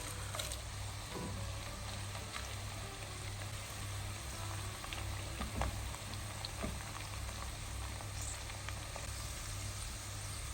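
Onions fry in a pan with whole spices such as cardamom and cloves, a constant close bubbling sizzle with a faint low hum underneath and no talk.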